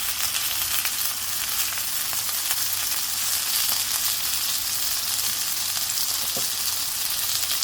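Floured sirloin beef tips frying in a pan, a steady dense sizzle and crackle running loud and unbroken throughout with no talking.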